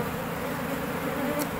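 Honeybees buzz in a steady, dense, close drone as they are removed from an abandoned house, a continuous swarm hum with no break.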